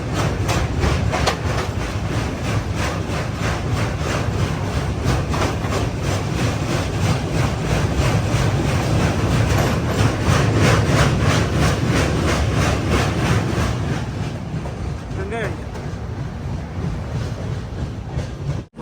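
Jan Shatabdi Express train crossing a river bridge on the Varanasi to Patna route, a loud steady rumble with rhythmic clickety-clack of wheels on the bridge, continuous throughout and easing slightly near the end.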